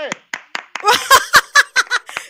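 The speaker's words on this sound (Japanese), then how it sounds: "すごいいっぱいなんか拍手がいっぱい聞こえました" Fellow comedians on a group trip to Chiba's Boso Peninsula clap over a phone line, a run of sharp, uneven claps from several hands close to the mic, with voices mixed in among the clapping.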